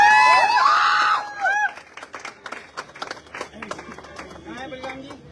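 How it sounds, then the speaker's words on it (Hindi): Applause with cheering and lively speech breaks out for a man celebrating the purchase of a new Maruti Baleno car, loud at first, then thinning into scattered claps under the chatter of a gathered crowd. "मैं चाहूंगा बलिराम जी के लिए एक जोरदार तालियां हो जाए"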